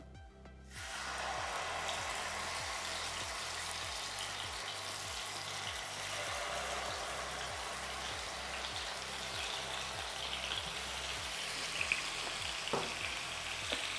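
Chicken legs sizzling in hot oil over a low flame, a steady, quiet crackle and fry that runs evenly throughout with a few faint clinks.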